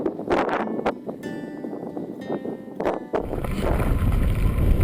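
Strong wind buffets the microphone during a bicycle tour in Australia, a steady rushing roar with gusty surges that grows heavier and more constant in the second half.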